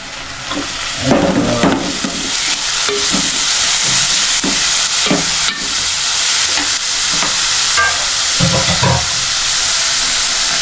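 Onion, ginger, garlic paste and tomato sizzle in hot oil for a village-style crab masala, a steady loud frying hiss broken by repeated scraping stirs of the spoon.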